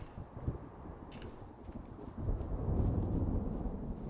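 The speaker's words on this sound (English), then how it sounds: "Oh, there's the storm." A thunderstorm in a video game: a low rumbling roll of thunder builds and grows louder toward the end, with a windy, rainy wash behind it and no voices.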